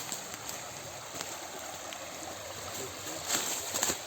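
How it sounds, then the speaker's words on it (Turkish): Water trickling and flowing steadily in a small stream, close by, with a few brief splashes near the end. "Yine bir dere geçişi."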